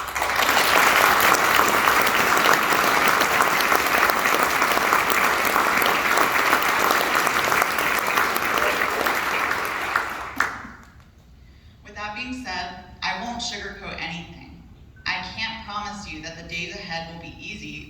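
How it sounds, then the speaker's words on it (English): Luncheon audience applauds accomplished foster youth with a long, full, steady round of clapping for about ten seconds, which then stops abruptly as a speaker begins talking. "let's take a moment to give these accomplished young people a round of applause for their hard work and perseverance"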